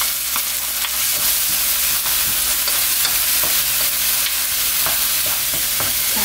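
A spoonful of anchovy fish sauce hits a hot frying pan and sizzles steadily and closely, broken by light clicks and scrapes of stirring.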